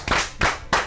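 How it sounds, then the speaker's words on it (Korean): A small group claps in three short, lively bursts during a live Korean talk broadcast, close and moderately loud, with no talking over it. "일단 박수 한번 치고 가시죠."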